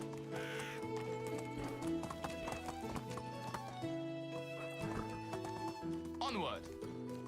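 A horse galloping in the medieval survival game Medieval Dynasty, steady rhythmic hoof clops with a whinny, heard under someone talking and over layered game music.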